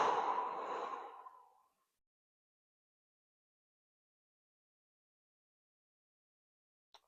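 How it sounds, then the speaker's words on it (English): A single slow exhale blown out through the mouth during diaphragmatic breathing, soft and breathy for about a second and a half, then trailing into silence with a faint click near the end. "when you breathe out, you're going to breathe out through your mouth like you're blowing out a candle."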